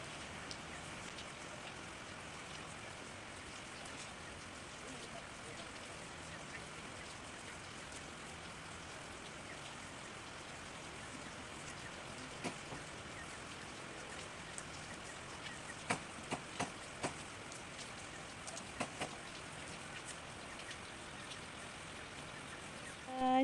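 Steady rain falls on a vegetable garden with soft soil, a constant even hiss of drops with no voices, a few sharper nearby drips tapping late on.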